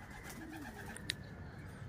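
Racing pigeons coo softly at a loft in Pagbilao, Quezon, while waiting for birds returning from summer race training; faint low cooing with a brief chirp over steady outdoor background noise.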